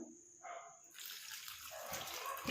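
Water runs from a tap over hair as dye is washed off, starting with a short splash and then a loud, continuous rushing stream up close.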